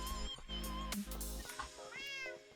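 A cat in Minecraft Bedrock meows in a few short, clear calls over a steady low background hum, loud and close.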